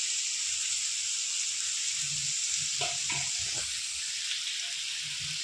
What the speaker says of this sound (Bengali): কষিয়ে নিয়েছি এবার দিয়ে দেবো জিরে গুঁড়ো লঙ্কার গুঁড়ো আর হলুদ পরিমাণ মতো সব